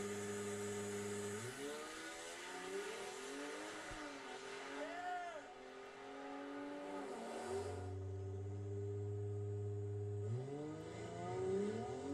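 A twin-turbo Hurricane inline-six race car engine runs with strong harmonic drones, revving up and settling into steady high idle, with changing pitch sweeps; some talk faintly underneath.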